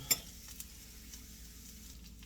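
Food sizzles in a heated pan as it is stirred, with a sharp scrape of the utensil near the start and a faint steady fry beneath, quiet and close.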